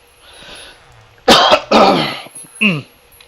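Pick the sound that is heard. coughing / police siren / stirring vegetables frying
coughing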